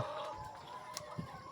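Chickens cluck and murmur inside a poultry house on an egg farm, a steady low flock chatter with a couple of brief sharper calls standing out.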